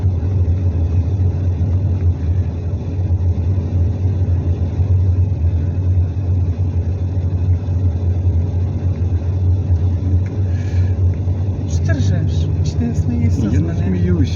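A car being driven slowly through a forest on the way to Blue Lake, with a steady low engine rumble and road noise that continues throughout.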